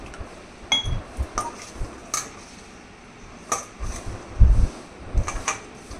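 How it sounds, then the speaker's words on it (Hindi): Scattered clinks and taps of a utensil against a bowl as water is mixed into batter, irregular and fairly close, with soft stirring sounds between them and no talking. "अब इसमें मैं धीरे धीरे थोड़ा थोड़ा पानी डाल के इसको मिक्स करूँगी।"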